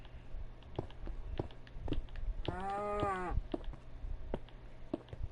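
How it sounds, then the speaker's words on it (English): A single cow moos once in Minecraft Bedrock Edition, a drawn-out, fairly close lowing call in the middle, set among faint scattered footstep-like taps and quiet background. "Oh, we got an obnoxious cow nearby."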